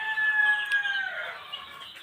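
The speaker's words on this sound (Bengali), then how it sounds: "দেখতে দেখতে আমার লেয়ার মুরগির বাচ্চাগুলোও কিছুটা বড় হয়েছে।" A young layer chicken chick gives a drawn-out, chirping call, close and clear, lasting about a second before fading, with no talking.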